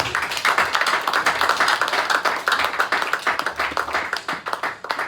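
Church congregation applauding during a sermon, dense sustained clapping from many hands filling the room, steady and fairly loud throughout.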